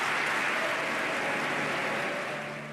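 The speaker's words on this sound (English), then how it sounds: "And he gets 29 or 39 standing ovations." A standing ovation fills a legislative chamber, with dense, steady applause from a large crowd that runs unbroken and tapers slightly at the end.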